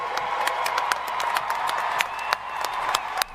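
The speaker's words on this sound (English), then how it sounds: "One more round of applause for our graduates." Scattered hand clapping from a modest audience at a graduation ceremony, with distinct sharp claps rising above a background murmur for a few seconds.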